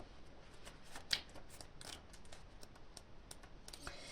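Oracle cards handled for a reading: a run of faint, quick shuffling and flicking rustles with one sharper snap near the middle, close and soft in a quiet room, no talking.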